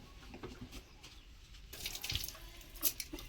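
Baskets being rinsed outdoors in a village, with running water splashing and trickling at a low level, picking up into brighter splashes and drips toward the end, with no voices.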